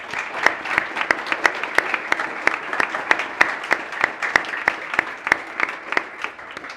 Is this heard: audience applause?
yes